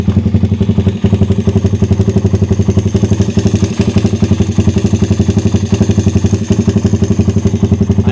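A motorcycle engine fitted with a 32mm carburetor that has no air screw idles steadily and loudly up close, its firing beat even and unbroken with no voices.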